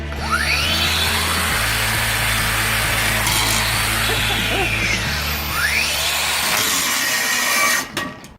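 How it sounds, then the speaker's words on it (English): A Makita angle grinder whines under heavy load as it is pressed hard into the work, a loud, continuous drone whose pitch drops and recovers as it bogs down, before cutting off abruptly at the end. "We'll have a turn each on each grinder at stalling, and we're just going to turn them on, push them down as hard as we can,"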